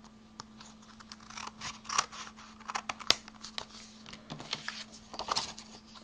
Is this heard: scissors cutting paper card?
yes